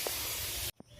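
Fish frying in a pan gives off a loud, steady sizzling hiss that cuts off abruptly near the end, followed by a faint soft tap and a low background hush.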